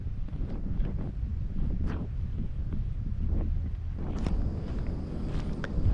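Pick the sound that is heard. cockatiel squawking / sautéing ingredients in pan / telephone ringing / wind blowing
wind blowing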